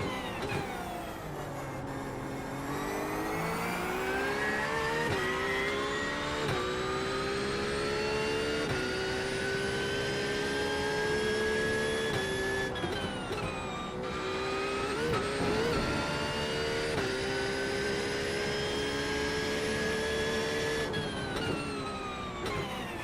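Porsche GT3 race car engine in the iRacing sim at Adelaide, a loud continuous drone whose pitch climbs and drops through gear changes over the whole stretch, with brief dips where the driver shifts or lifts, no voices.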